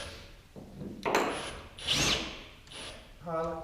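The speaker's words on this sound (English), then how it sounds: "Scares me drilling this brand new truck." A power drill whirs in short bursts, grinding up close into the metal body of a new 2020 Ford F-150 truck, with pauses between.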